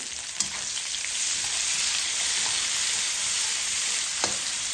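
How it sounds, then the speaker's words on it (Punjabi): Finely chopped onions frying with cumin in a pan for a bhurji, making a steady, even sizzle close up, broken by a couple of sharp utensil clicks. "ਪਿਆਜ਼ ਨੂੰ ਚੰਗੀ ਤਰ੍ਹਾਂ ਮਿਕਸ ਕਰਕੇ ਹਲਕਾ ਜਿਹਾ ਭੁੰਨ ਲੈਣਾ"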